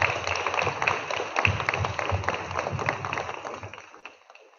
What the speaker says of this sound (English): Students, let's give our teachers a round of applause.